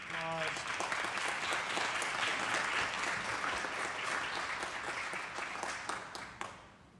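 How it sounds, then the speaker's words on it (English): Applause from attendees in a city council meeting chamber, steady moderate clapping that gradually thins out and fades toward the end, with some murmuring voices underneath. "Let's give these guys a big round of applause."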